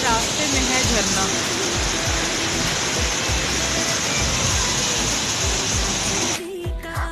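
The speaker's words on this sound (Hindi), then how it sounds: "पूरा रास्ते में है झरना।" Waterfall water pouring across a mountain road on the way to Rohtang Pass in Himachal Pradesh, a loud, steady rushing wash that fills the scene and then cuts off near the end.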